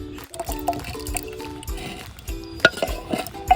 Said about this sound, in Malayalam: അപ്പോൾ 1/2 ലിറ്റർ നമ്മൾ ഈ ഫ്രഷ് തൈര് ഒഴിച്ച് കൊടുക്കും.